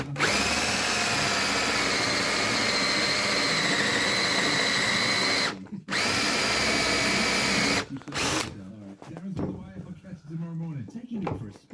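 Power drill driving screws into a workshop wall unit, running loud and steady for several seconds, pausing, then a second long burst, followed by short bursts and a voice.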